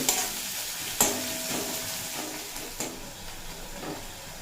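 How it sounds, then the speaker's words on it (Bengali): Onion fries in oil in a pan being cooked until soft, a steady close sizzle punctuated by a few sharp spatula taps and scrapes, with no one speaking. "পেঁয়াজটা ভেজে নেব এখানে পেঁয়াজটা বেশ লাল লাল করে ভেজে নেওয়ার প্রয়োজন নেই"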